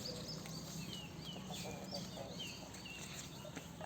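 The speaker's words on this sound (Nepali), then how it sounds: "लोकल कुखुरा" Local village chickens cluck softly and intermittently around a coop, with faint short calls over a steady low background hum.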